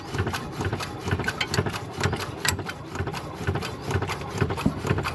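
Replacement ABS pump motor on a 2017 Toyota Avanza runs in a steady mechanical whir with a rapid rhythmic pulsing during a brake bleed, close and continuous, with faint voices now and then.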